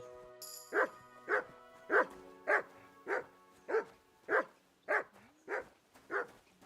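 A dog in the video game Kingdom Come: Deliverance II barks about eleven times in an even, steady rhythm, each bark clear and fairly close over a quiet background, with no talking.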